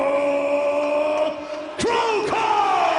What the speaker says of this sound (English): Listen to the sold-out crowd at the Saitama Super Arena.